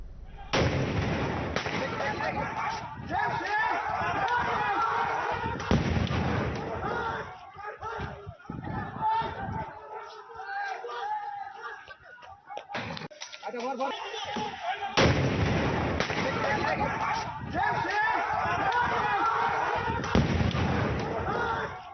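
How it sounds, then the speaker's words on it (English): Crude bombs going off during a street protest: repeated loud booming blasts and cracks in rough, clustered bursts, mixed with crowd noise and brief quieter stretches, with a voice talking at times. "take a look at the impunity with which today people actually came out and flung crude bombs"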